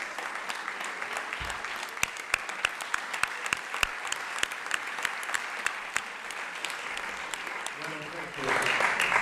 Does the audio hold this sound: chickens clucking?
no